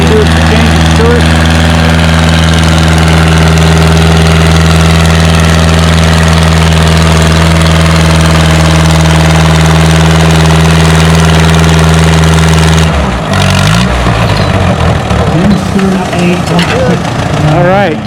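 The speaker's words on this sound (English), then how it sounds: "This is the 2025 St. Jude's raffle tractor in its earliest configuration." A tractor-pulling tractor's heavy diesel engine idles steadily with a deep, throbbing rumble at a pulling event, then revs and shifts to a rougher, changing tone near the end.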